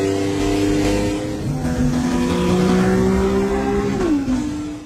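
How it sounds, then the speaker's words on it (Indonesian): Race cars accelerate off the line at the start of a motor race, engines revving with rising, shifting tones that layer together loudly and then sweep upward as one pulls away. "Satu persatu para pengemudi menggaspol mobilnya"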